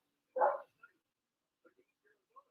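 A dog barks once indoors, a short muffled woof from another room, followed by a few faint scattered sounds in near silence.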